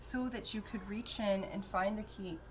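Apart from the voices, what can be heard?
None of the usual background noises is heard.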